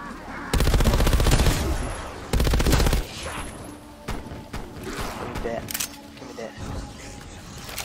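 In Call of Duty zombies on the Mauer der Toten map, a gun fires in two heavy, loud bursts of rapid shots, followed by scattered single shots and softer clatter among the game sounds.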